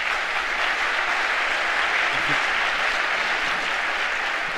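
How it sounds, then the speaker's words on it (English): Sustained, loud audience applause fills a conference session hall at an agroforestry congress, a steady wash of clapping hands from many people with no break, close and even throughout. "And a big round of applause for Eric and his panelists, please."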